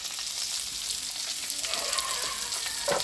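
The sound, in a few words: potatoes frying in a pan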